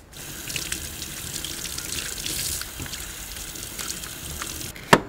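A leek is rinsed under a running kitchen tap, giving a steady hiss and splash of water that shifts slightly as it is handled, ending with a sharp clatter near the close.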